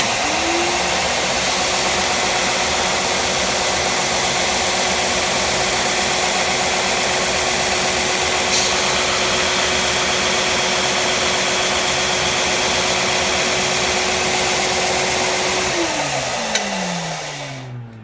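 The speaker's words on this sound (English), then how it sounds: "I'm going to trim the edges of the nut initially on the belt sander" A belt sander trimming the edges of a bone guitar nut, a loud continuous close whir with a steady tone that winds down near the end.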